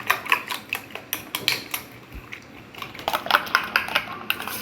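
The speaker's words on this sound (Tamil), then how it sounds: "இது எல்லாத்தையும் சேர்த்து நல்லா இன்னொரு முறை கலந்து விட்டுருங்க" A spoon clinks rapidly against a bowl while egg paniyaram batter with green chillies is stirred, a quick, uneven run of light taps and scrapes close by.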